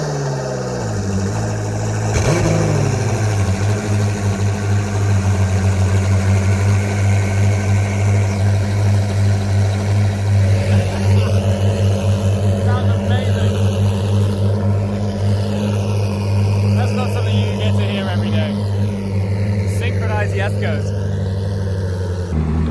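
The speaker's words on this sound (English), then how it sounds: "the Koenigsegg team are about to roll out in both Jeskos to do some filming" Two pre-production Koenigsegg Jesko supercars idle with a steady low rumble, then rev and roll out, engine pitch sweeping up and down, while people talk nearby throughout.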